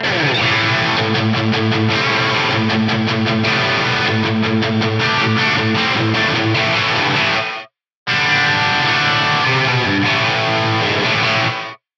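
Electric guitar played through a Mighty Megatap delay pedal with the taps fully up and low cut near 100, ringing with dense, metallic, smeared repeats that cut off abruptly, a brief silence, then another gated phrase; no talking.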